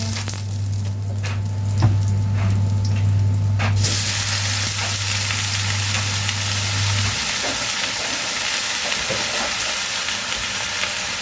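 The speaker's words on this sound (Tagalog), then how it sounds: "Pag nagtitinola ko, ginigisa ko muna siya." Ginger sautés in a hot pan for chicken tinola with bagoong, a steady sizzling hiss that swells and brightens partway through, while a low hum runs beneath the first half, no talking.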